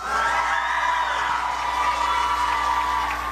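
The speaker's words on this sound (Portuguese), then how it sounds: "também uma salva de palmas para eles" At a youth environmental conference in Luziânia, a large crowd of children applauds and cheers, making a loud, continuous roar of clapping and shouting with no break across the whole stretch.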